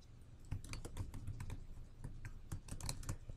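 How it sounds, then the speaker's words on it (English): Typing on a computer keyboard, a quick, uneven run of soft key clicks close by, continuing for a few seconds with no voice over it. "so I can go ahead and type in what my title is"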